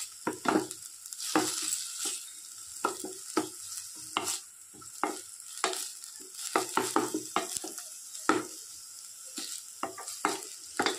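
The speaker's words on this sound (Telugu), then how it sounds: "వేసి కొంచెం లైట్గా ఫ్రై చేయాలి" Crushed ginger, garlic and green chili frying lightly in a pan for paneer paratha filling, with a steady close sizzle broken by repeated stirring scrapes and clinks of the spoon, no talking.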